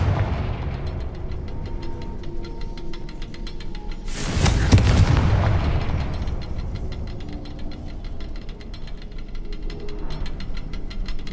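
A Confringo fire spell explodes in the video game Hogwarts Legacy on PS5, a sudden loud broadband burst about four seconds in with a rumbling tail fading over two seconds, set against a steady game background with no voices.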